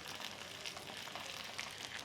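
Butter chicken seekh kebabs sizzle in a pan over a medium flame, a soft, even crackle that runs unbroken and fairly quiet for the whole couple of seconds.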